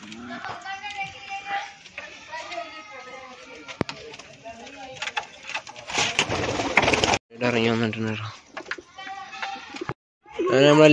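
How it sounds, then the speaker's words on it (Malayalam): Pigeons released from their cage, with cooing and bird calls scattered across the clip, fairly close, along with wing flutters and someone talking over parts of it. "നമ്മളെല്ലാ പ്രാവുകളും പുറത്തേക്ക് ഇറങ്ങിയിട്ടുണ്ടെടാ"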